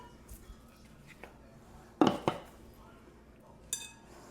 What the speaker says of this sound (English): And we're going to mix this together.